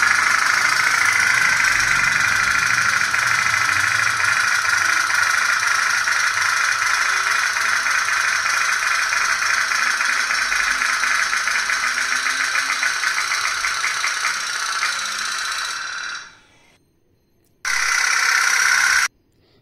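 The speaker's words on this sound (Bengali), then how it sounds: "নৌকাটার সলতেটা জ্বালিয়ে দাও, আমাকে তেল দিয়ে দাও, আমি নৌকা চালাবো" A toy candle-powered pop-pop boat putters steadily and continuously, a dense rattling drone that cuts out near the end, then briefly resumes.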